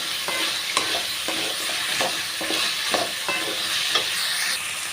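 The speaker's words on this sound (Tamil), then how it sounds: "அந்த எண்ணெயிலே வந்து எல்லா காய்கறியுமே நல்லா வதக்கிக்கிறலாங்க" Mixed vegetables, including peas and broad beans, sautéing in hot oil for a Pongal curry, a loud steady sizzle with repeated stirring scrapes and clinks at a fairly regular rhythm, close up and alone.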